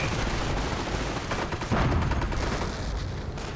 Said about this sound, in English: Bazookas fly, but they simply cannot penetrate.